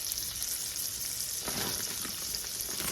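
Bulk sausage and butter sizzle steadily in a hot pan, a dense, continuous crackle and hiss that stays close and even throughout, with no voices.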